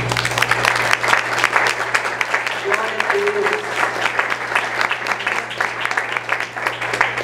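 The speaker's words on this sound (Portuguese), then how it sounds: "Aplauda o Senhor por essa palavra." Church congregation applauding steadily through a Portuguese-language sermon, a dense continuous clatter of many hands, with a voice speaking briefly over it.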